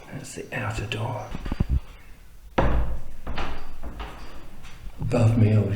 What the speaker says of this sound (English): And then squeaky door.